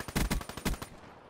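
Automatic rifle fire in Black Ops 3 team deathmatch, a few rapid bursts of close, punchy shots over about a second, then a fading tail.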